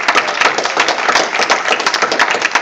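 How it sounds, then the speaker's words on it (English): Audience applause in a crowded meeting room, dense rapid clapping from many hands, loud and close, sustained throughout without talk. "Give yourselves a round of applause for being here."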